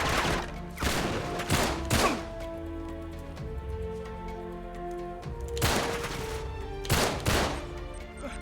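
Gunfire in Uncharted 3, several loud bursts of rapid shots in irregular clusters over a tonal game soundtrack.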